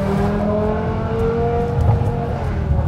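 A BMW E60 M5 engine revs hard up close, giving a loud, sustained rising mechanical wail with strong layered tones and no talking.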